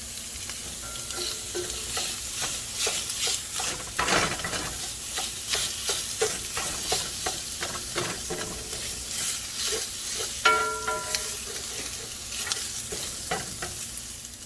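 Sausage and cheese fry in a pan with a steady, close sizzle and crackle, with scattered pops and stirring scrapes throughout and no talking.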